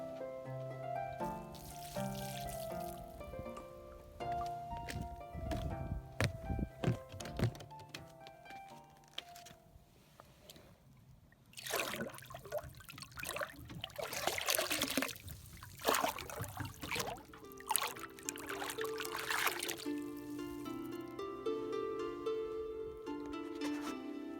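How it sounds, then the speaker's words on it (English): Leftover boiled water pours and splashes in short bursts as dishes are rinsed outdoors, while soft instrumental music plays throughout. "we wash out our dishes right away, with the leftover boiled water to rinse"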